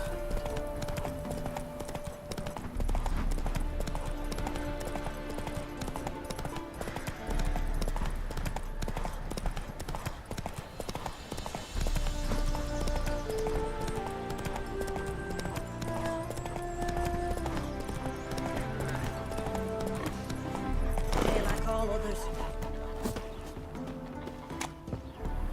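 Roach, Geralt's horse from The Witcher 3, gallops with a continuous drumming of hooves over a game music bed, with brief snorts or whinnies along the way.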